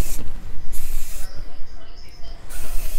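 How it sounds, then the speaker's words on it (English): Aerosol hairspray is sprayed onto wavy hair in repeated hissing bursts, bright and close, with short gaps between sprays and no talking. "a little bit of aerosol hairspray will help with some humidity"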